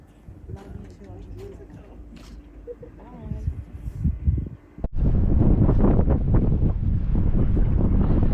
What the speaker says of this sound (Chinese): 风很大，所以体感温度会比较冷